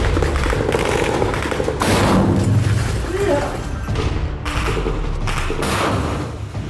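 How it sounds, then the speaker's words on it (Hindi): War footage of RPG rockets fired from a ruined rooftop at two tanks: heavy, loud blasts and thuds mix with gunfire-like bursts and a continuous roar across the clip. "खंडहर की छत से इन दोनों टैंकों पर आरपीजी रॉकेट दाग दिए जाते हैं, जिसमें जोरदार ब्लास्ट होता है।"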